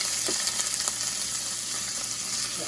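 Green beans hitting melted butter in a hot pan, giving a steady close sizzle with light crackle throughout and no talking.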